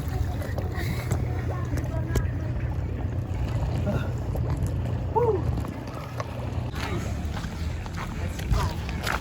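A boat moving on open water, with a steady low engine-like rumble and wind buffeting throughout, and people talking faintly under the noise.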